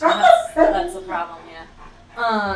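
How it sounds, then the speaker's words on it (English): A dog lets out a short, high, strained yelping scream near the end, with people talking just before it. "That is a dog, not a human being,"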